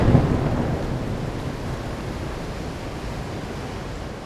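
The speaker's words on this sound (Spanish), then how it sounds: "escuché truenos y otros clamores de la naturaleza" Thunderstorm rumble rolls low and steady, loudest at the start and then settling into a continuous deep roar like distant thunder over rain, with no voices.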